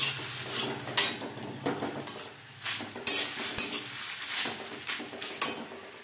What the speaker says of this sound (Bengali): ডাটার সাথে সবজি বেশ ভালো করে মিক্স করে দেব।